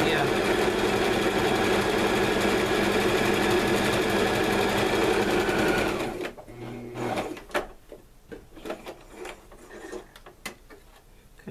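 A sewing machine hums along continuously for about six seconds as fabric strips for a strip quilt are joined edge to edge. It then stops, leaving softer handling clicks and rustles.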